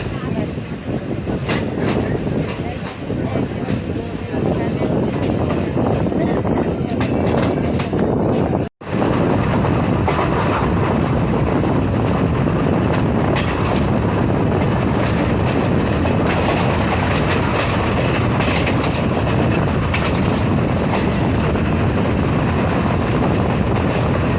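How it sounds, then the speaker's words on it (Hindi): A train rolls along the rails in India after passing Selu railway station, with a loud, steady rumble and rattling clatter that persists throughout, briefly cutting out once. "तो हमारी ट्रेन सेलू रेलवे स्टेशन से भी निकल गई।"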